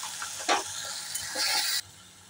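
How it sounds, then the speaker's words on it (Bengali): Ginger, garlic and onion paste frying in a pan makes a close, steady sizzle and hiss, with a stirring scrape early on and a louder hissing surge that cuts off sharply near the end. "আদা রসুনটা আমার ভালো ভাজা হয়ে গেছে"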